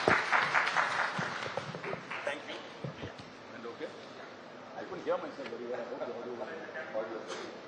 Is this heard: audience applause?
yes